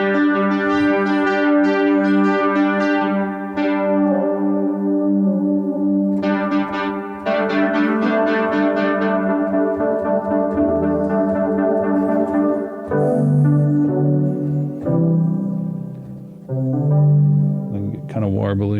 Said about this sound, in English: I'm going through this Wellspring, which is a spring reverb